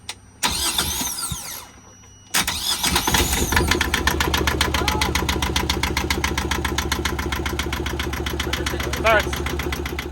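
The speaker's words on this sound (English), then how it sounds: "So this is how we can start the motor and try to figure out what's going on." A sailboat's inboard engine is started by shorting the solenoid wires with a screwdriver: a burst of cranking, a short pause, then the motor catches and settles into a close, steady, rhythmic idle.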